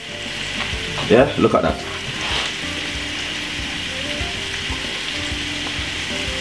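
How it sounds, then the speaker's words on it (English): Chicken pieces sizzling steadily in a pan of hot oil for Jamaican brown stew chicken, a continuous bright crackle with a brief clatter of the pan early on, while someone speaks briefly. "We're going to be frying this roughly about 10 minutes until you see get that nice lovely color on both sides."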